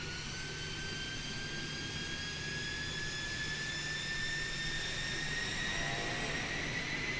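Jet engines of an iniBuilds A300 airliner in Microsoft Flight Simulator spool up on the runway, a steady broadband roar with rising whines, loud and continuous throughout.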